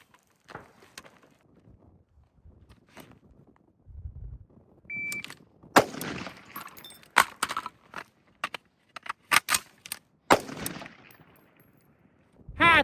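Gunshots from a pistol or rifle reload drill on a shooting range ring out as loud, sharp bursts. The shots come in uneven clusters with brief mechanical handling noises between them, and there is no talking.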